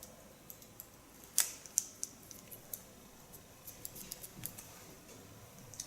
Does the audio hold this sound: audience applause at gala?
no